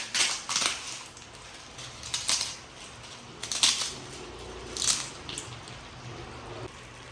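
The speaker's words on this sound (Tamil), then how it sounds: "இது அப்பளத்தை அப்படியே பொடிச்சுட்டு போட்டுக்கலாங்க" Appalam (papad) crushed by hand over tamarind curry in a home kitchen: a series of sharp, brittle crackles in short bursts, with quiet gaps between them, close and fairly soft, with no talking.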